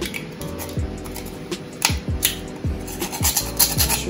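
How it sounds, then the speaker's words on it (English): Whole nutmeg scraped on a hand grater while making banana cornmeal porridge, giving repeated rough rasping strokes at a steady rhythm, close and moderately loud, with no speech. "just take your time with the grater"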